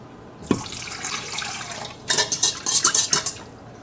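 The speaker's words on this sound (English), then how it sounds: "we're going to add 1 cup of warm water to that and mix it" Warm water runs briefly into a bowl, then a series of wet, rhythmic slapping and squelching sounds as bread dough is mixed by hand.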